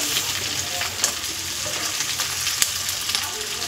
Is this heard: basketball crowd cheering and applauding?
no